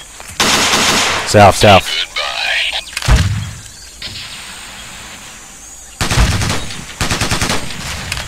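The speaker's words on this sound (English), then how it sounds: "Enemy fire." Enemy gunfire in the Ghost Recon video game crackles in loud bursts, with automatic volleys at the start and again near the end, separated by quieter stretches where a player's voice speaks briefly.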